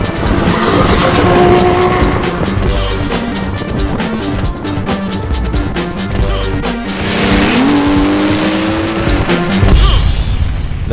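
A stock C3 races against 500 horsepower Supras, loud engines roaring and rising in pitch through gear changes, tires squealing at points, with a brief dip in the noise and a renewed surge near the end.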